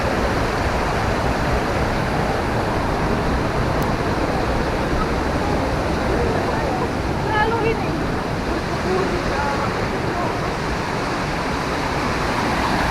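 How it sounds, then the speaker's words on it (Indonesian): The Uma Anyar waterfall pours down into a river in a loud, steady roar of rushing water that fills the whole stretch without a break. "Ini air terjun yang paling bawah"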